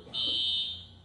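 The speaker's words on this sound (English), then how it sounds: "the fire alarm going off in the room there in Boulder, Colorado" A fire alarm sounds in a press conference room in Boulder, Colorado: a single loud, steady electronic buzzing tone lasting under a second over low room noise.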